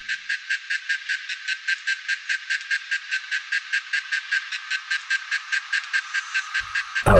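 Periodical cicadas during mating: a rapid series of about thirty evenly spaced buzzing pulses, loud and close, ending abruptly with a brief thump at the very end.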